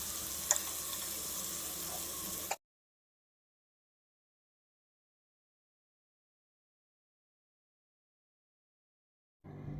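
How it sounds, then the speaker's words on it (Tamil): Paneer tikka pieces fry in a pan with a close, crackling sizzle and a sharp tap for a couple of seconds, then it cuts to silence before a short burst of frying returns at the end. "இதே போல் அடுத்த பேட்சை வறுத்து எடுத்துக்கலாம்"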